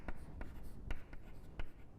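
Handwriting on a board or paper during a lesson on market structures, with a few distinct taps and short scratchy strokes spaced irregularly, close and fairly quiet.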